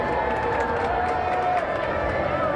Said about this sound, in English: The applause starts up.